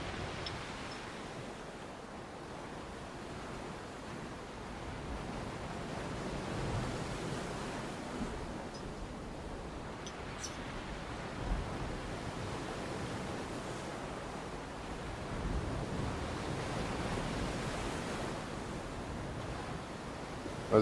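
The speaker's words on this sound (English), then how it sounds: "amazing to just hear the waves of the ocean crashing" Ocean waves crash on the rocks at Betty's Bay, a continuous broad wash of surf with slow swells, mixed with light wind noise and no voices.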